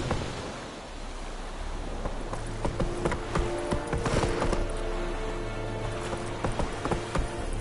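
Roach the horse gallops in The Witcher III, with steady, fairly close hoofbeats drumming under wind-like ambient noise and soft music.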